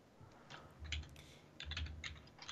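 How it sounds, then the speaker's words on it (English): Keys on a computer keyboard clatter in quick, irregular bursts, faint and a little distant, like someone typing in the corner of a quiet room. "Pay no attention to the typing in the corner."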